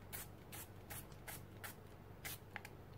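Paint is sprayed onto a mixed-media art journal page in short bursts, about seven quiet hisses in an uneven rhythm, close and faint.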